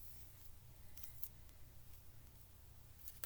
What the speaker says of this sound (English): And I will cut off this tag.